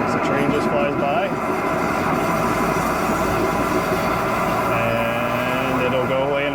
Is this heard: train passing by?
yes